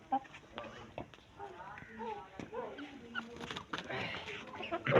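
Two roosters cluck and murmur nearby, with soft overlapping calls under quiet background noise and some voices in the scene.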